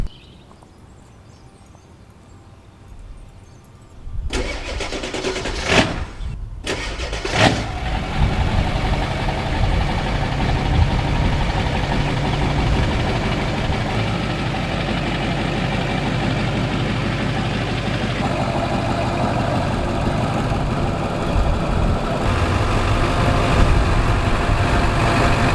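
After a quiet opening, a truck engine cranks with a few sharp bursts and catches, then settles into a steady, rumbling idle that continues close by for the rest of the time.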